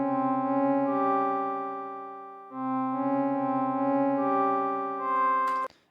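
Dry synth key melody for a beat with no effects, a clean sustained tone playing a slow few-note phrase in two long swelling passes that ends with a short click.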